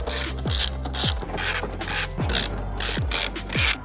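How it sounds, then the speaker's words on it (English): A 13 mm ratchet clicks through repeated short bursts at close range, about seven quick runs of pawl clicking with brief pauses between, as it removes strut bolts on a BMW F30 340. "we're gonna take a 13 millimeter and remove the 6 strut bolts that are gonna hold it into place."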